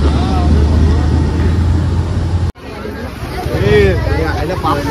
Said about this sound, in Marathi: हे बघा गर्दी किती आहे